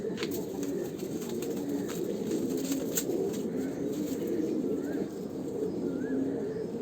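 Several fantail pigeons keep up a continuous, throaty cooing nearby, a dense rolling burble with faint light clicks and rustles scattered through it.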